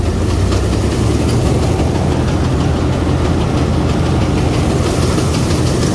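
An International Harvester 321 combine harvester engine runs loud and steady out in a wheat field, a dense low rumble with mechanical clatter and no clear change in pitch.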